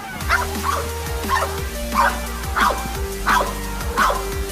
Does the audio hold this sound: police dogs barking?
yes